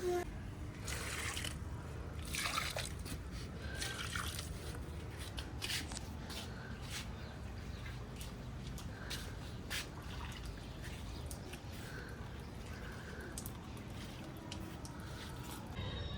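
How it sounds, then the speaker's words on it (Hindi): Plants being watered on a rooftop, with soft dripping and splashing spatters of water falling on leaves and soil, quiet and irregular over a low steady background. "पापा पौधों में पानी डाल रहे हैं।"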